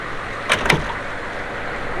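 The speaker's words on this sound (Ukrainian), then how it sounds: "Головне, що мені треба зробити, обережно зачинити двері." A Humvee door is eased shut with care, giving two soft, close thuds in quick succession over a steady background hum.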